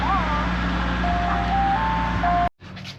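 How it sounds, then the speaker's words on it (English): An ice cream truck's chime melody plays steadily over a loud rumbling background near a stock C8 Corvette, then cuts off abruptly, with a voice speaking briefly afterward. "ice cream truck."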